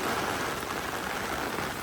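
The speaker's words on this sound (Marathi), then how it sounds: "आम्ही जेव्हा जेव्हा गाडीतनं उतरतो तेव्हा पाऊस येतोय" Rain falling steadily in a garden at Madikeri, a continuous close, even hiss of drops without pauses and no voices.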